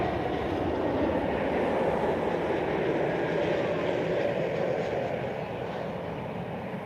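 An airliner touching down at Lisbon Airport, heard as a distant, steady jet engine rumble and rushing roar that fades slightly toward the end, with no talk.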